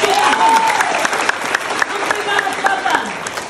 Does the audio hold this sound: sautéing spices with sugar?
no